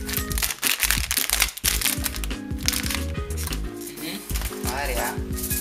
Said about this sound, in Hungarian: Előveszem szokásos morbid ollónkat.